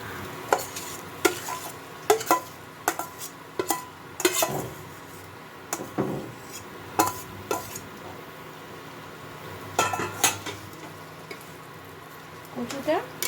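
A spoon stirs taro into a spiced gram flour mixture in a pan for gathi kochu tikia, making intermittent scrapes and metallic clinks over a faint sizzle.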